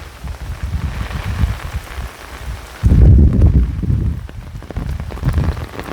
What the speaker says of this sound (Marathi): थोडा पाऊस कमी आला आहे, पण तो काय पाऊस काय आता राहणार नाही तसा.